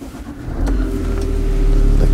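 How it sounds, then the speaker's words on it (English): An Infiniti car's engine starts with a keyless push-button start: a quiet cabin, then a sudden catch partway through that settles into a steady, close, low idle rumble. "the car engine turns on"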